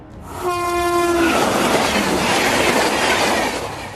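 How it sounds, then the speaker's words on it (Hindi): A train passes loudly and close, its horn blaring in one steady blast for about a second before the rushing, rattling roar of the wagons takes over and carries on to the end. "गाड़ी बुला रही है, सीटी बजा रही है"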